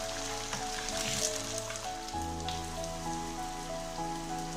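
Onion frying with potatoes in a kadai makes a dense, steady crackling sizzle close by, like rain on a surface, constant throughout and without talk.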